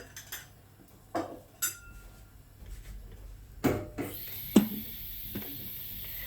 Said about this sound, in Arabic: وببدا اقلب